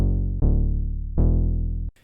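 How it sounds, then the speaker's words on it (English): Two sustained synth bass notes from a TAL-U-NO preset, warm and filtered, each with a soft attack and slow fade, played alone with a brief pause between them. "I'm going to use this Tal Uno preset I just made as the bass underneath"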